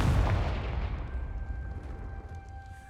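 A Confringo fire spell blast in the Hogwarts Legacy video game, a single loud burst at the start that decays into a rumbling tail with a faint tonal ring over it.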